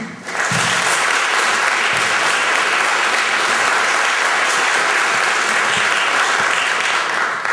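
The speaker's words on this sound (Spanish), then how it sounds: "Para todos nuestros ganadores y premios de honor, vos pedimos un aplauso de gratitud." An audience at a film festival award ceremony, the Asturian film festival, applauds its winners and honorees with sustained, dense, loud applause that holds steady throughout after a brief rise at the start.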